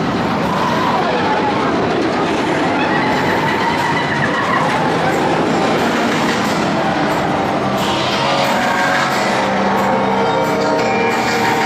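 A train-like roller coaster ride, the Smiler at Alton Towers, rumbles and clatters loudly and continuously throughout, a dense steady roar close by.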